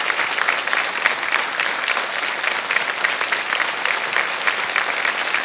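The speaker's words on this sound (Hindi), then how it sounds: "तालियां बजते रहे" Steady studio audience applause on the set of a Hindi TV quiz show, a dense, even wash of clapping held at constant loudness throughout with no talk over it.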